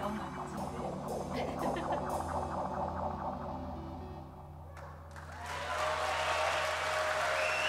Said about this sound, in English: just hear the standing ovation.